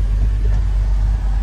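A 1957 Chevrolet Bel Air's new small-block V8 runs at idle, a loud, steady deep rumble heard close up with no talking.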